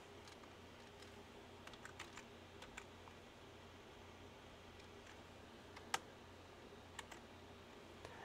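Typing on a computer keyboard to search for a farming game: faint, scattered key clicks and taps over a quiet room hum, with one sharper keystroke standing out.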